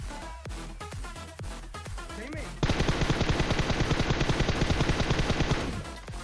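Gunfire in the mobile battle royale game PUBG Mobile: a few scattered single shots and a voice at first, then a loud, sustained rapid automatic burst that rattles for about three seconds before stopping.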